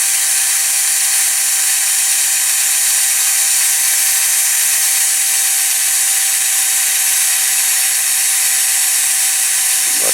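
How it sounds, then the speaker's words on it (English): A cordless drill holds a small die-cast toy van part in its chuck and spins it steadily, giving a loud continuous whine that stays level for about ten seconds before the motor cuts out at the end. "My drill's about to stop any minute."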